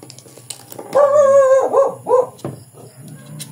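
A dog barks and yelps indoors in one burst of several loud, tonal calls lasting about a second and a half, then quieter household room tone.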